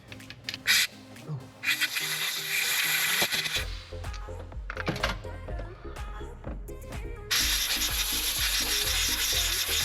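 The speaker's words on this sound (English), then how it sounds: "we've gotten our hole drilled out pretty straight." A power drill with a Milwaukee bit grinds and chatters into metal, drilling out a glow plug on a Mercedes, in uneven bursts, with scraping and rattling between passes, close and loud.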